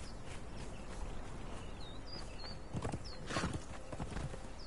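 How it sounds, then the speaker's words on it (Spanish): A horse gallops under its rider in the Conan Exiles video game, with rapid, steady hoofbeats running throughout, a few short whinnies and bird chirps over them, and a brief louder flurry of hooves near the end. "cómo se nos da montar a caballo"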